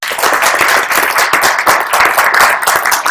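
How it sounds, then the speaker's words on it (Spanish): Loud, dense audience applause at the close of a Latin American literary talk, steady clapping filling the full stretch with no voices. "te despedimos con un fuerte aplauso"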